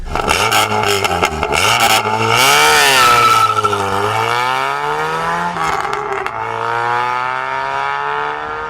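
The engine of a first-generation VW Golf GTI Mk1 revs and pulls through the gears from inside the cabin, loud and close, its pitch climbing and dropping with each shift.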